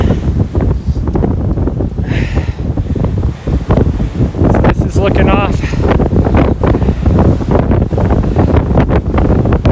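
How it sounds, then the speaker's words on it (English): Strong wind on a ridge top near Bozeman, Montana buffets the microphone with a heavy, continuous roar while a person talks over it. "It is so super windy."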